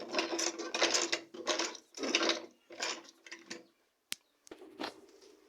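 A sewing machine stitches a box bag in short bursts of rapid mechanical chatter separated by pauses, ending with a sharp click and a brief final run, close and moderately quiet.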